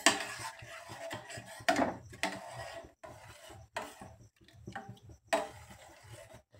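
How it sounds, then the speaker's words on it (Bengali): A spoon scraping and clinking around a cup while stirring coffee, coming in uneven rubbing bursts with short pauses between, close up and fairly quiet. "তো গাইস এটা আমি ভালোভাবে একটু নেড়ে চেড়ে নিচ্ছি, দেখতে পাচ্ছেন।"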